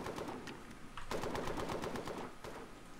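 Rapid turret gunfire in the Far Cry 3 video game, a dense stream of loud, close automatic bursts that rattle on for the full stretch, briefly intensifying midway, with no voices over it.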